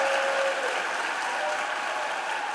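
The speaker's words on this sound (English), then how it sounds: "Democrats on the Senate floor erupted into applause" Applause on the Senate floor as Democrats clap in the chamber, a steady even wash of many hands sustained throughout with some faint voices mixed in.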